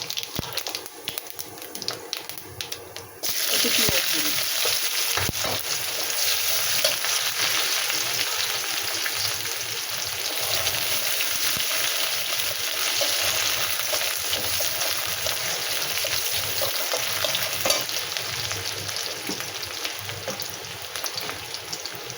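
Dried red chillies and whole cumin seeds hit hot oil after fish frying, a bright continuous sizzle that erupts suddenly a few seconds in and stays loud and steady throughout, with occasional stirring clicks.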